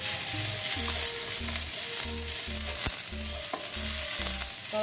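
Garlic flowers frying in a home pan make a steady loud sizzle, with a repeating low rhythmic pattern of stirring or scraping running through it and a couple of sharp clicks.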